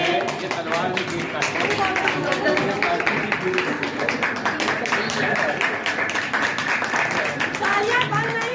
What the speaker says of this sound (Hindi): तालियां बंद नहीं होनी चाहिए, और जोर से, और जोर से